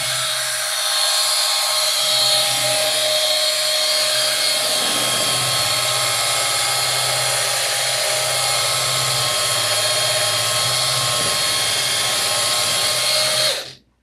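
Rotary tool buffing and polishing a surface, a loud, steady high-pitched whine held close for many seconds before cutting off abruptly at the end.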